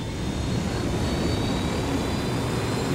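A helicopter in the video game Ghost Recon Wildlands flies with a constant loud rotor and engine roar. The sound stays dense and unbroken throughout.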